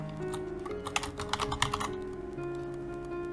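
A page name is typed on a computer keyboard in a quick, close burst of keystrokes that clusters in the middle, over a soft sustained musical tone in the background.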